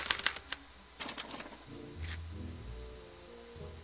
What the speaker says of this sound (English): they're relayed to this special typewriter, which prints out a punch card that represents the subject's mind map